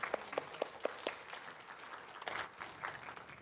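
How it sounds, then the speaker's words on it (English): Audience applause at a human rights awards ceremony, beginning as a few distinct claps and swelling into a faint, steady patter of many hands, heard from some distance. "Let's give them a round of applause."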